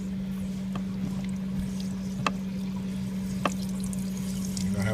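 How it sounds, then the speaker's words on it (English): Water pours out of the opened water line of an r-pod travel trailer's toilet in a wet bath as a part is replaced, giving a soft, continuous trickle over a low steady hum, with a few faint clicks. "You're going to have a lot of water coming out."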